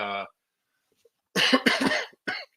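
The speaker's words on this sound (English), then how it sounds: "Sorry, I keep coughing." A brief bit of voice, then several harsh human coughs in quick succession, close and fairly loud, with one more cough after a short pause.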